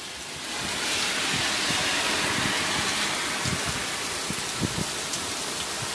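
Heavy rain pours down steadily outdoors, a dense continuous hiss with scattered louder drops and patters close by, unbroken for the whole stretch.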